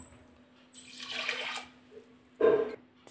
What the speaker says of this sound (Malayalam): ഇതിലേക്ക് നമുക്ക് വെള്ളം ഒഴിച്ചു കൊടുക്കാം.